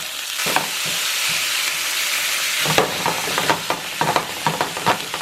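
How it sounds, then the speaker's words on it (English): One pound of ground beef sizzles and crackles in a hot skillet, with a spatula scraping and stirring in repeated strokes during the second half. "dropping 1 pound of ground up hamburger meat into the skillet, and we're going to brown it"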